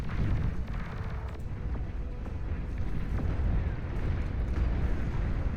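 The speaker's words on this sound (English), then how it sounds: "Scorpion turrets, they make a lot more noise than they do damage" Scorpion turrets in the real-time strategy game Beyond All Reason firing continuously in a large battle, a dense rumbling roar of overlapping booms and blasts that holds steady throughout without letting up.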